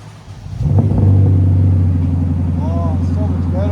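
A 2025 Lexus IS 500 with a 5.0L V8, X-pipe and Magnaflow mufflers starts with a loud bark. It settles into a deep, steady idle rumble up close, with a few short revs near the end and no talking.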